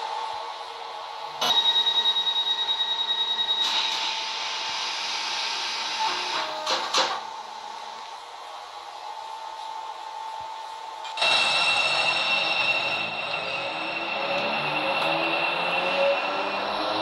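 A Class 456 electric train in the Project Transit video game runs along with a steady motor hum and rising and falling whine, marked by sudden shifts in tone and a few clunks along the way.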